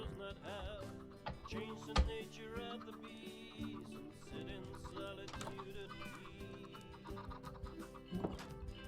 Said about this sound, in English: Chickens. It's a lot of chickens.